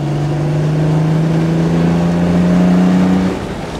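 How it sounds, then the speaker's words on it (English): A 1964 Jaguar Series 1 roadster with a 3.8 liter engine pulls hard on a farm road, its loud, steady engine note rising in pitch before dropping away as it shifts up a gear. "here we are on the farm road, going up through the gears"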